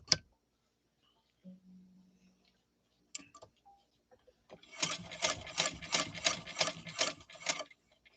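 Domestic sewing machine stitching through denim, with a fast, steady run of needle strokes for about three seconds after a few brief clicks and a short low hum; near and fairly loud, with no speech.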